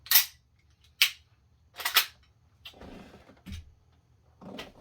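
Airsoft Glock pistol fires several sharp, close shots at roughly one-second intervals, with softer mechanical clatter of the slide and handling between and after the shots.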